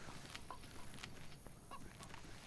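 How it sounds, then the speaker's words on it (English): Chickens in the video game DayZ give several short, sharp clucks spaced irregularly over a steady ambient background, at moderate distance and fairly quiet. "Right after I kill this goddamn chicken."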